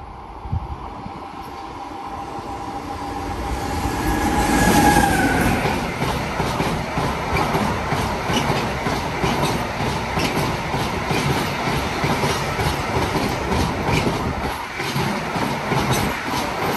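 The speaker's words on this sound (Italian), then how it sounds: "Treno in transito al binario 1, allontanarsi dalla linea gialla." A train running through a station on platform 1 without stopping, swelling to a loud rush as it nears, then a sustained rumble of wagons with rhythmic wheel clatter and faint squeal, no voices.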